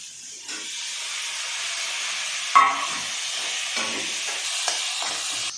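Tomatoes are stirred and fried in a hot pan: a steady, loud sizzle with hiss and a few sharper stirring scrapes and knocks, close up and with no voices.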